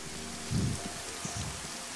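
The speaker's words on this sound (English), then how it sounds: "Ah, the rain." Steady rain falls in a foggy town in a multiplayer shooter game, a soft continuous hiss with a couple of brief low thumps near the middle and no talk.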